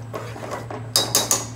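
A spoon stirs lamb chop curry sauce in a pot with soft scraping, then three sharp metallic clanks against the pot rim in quick succession, close and alone.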